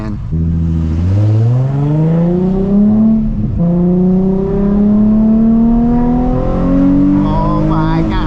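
A Nissan 350Z HR engine revs loudly and close by, its deep note climbing and dropping through several sustained pulls.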